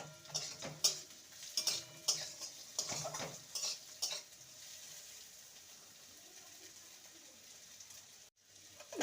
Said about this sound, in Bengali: ভাজা হয়ে আসছে আর একটু ভাজা হবে